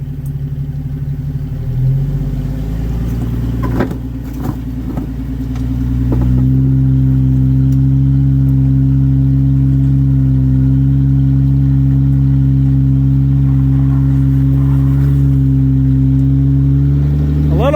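An off-road vehicle's engine on a desert trail in Johnson Valley holds a loud, close, steady idle, then climbs into a sustained higher rev about a third of the way through as it eases over terrain.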